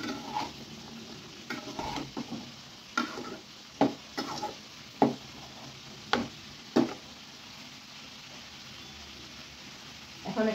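Potatoes and small fish fry in oil with a constant sizzle, punctuated by several distinct stirring scrapes and clacks of a utensil against the pan at irregular intervals.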